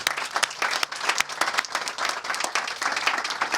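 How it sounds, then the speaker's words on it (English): A crowd at a state park dedication ceremony applauds the team, a continuous burst of brisk, dense clapping filling the whole moment. "I want to give them a round of applause right now"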